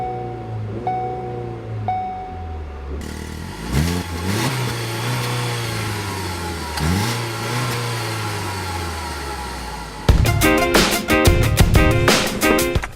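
A 2015 Ford Focus with a 2-liter GDI engine pulls away on the road. Its engine note rises repeatedly through the gears with clear shifts, followed by a busier, louder stretch at the end.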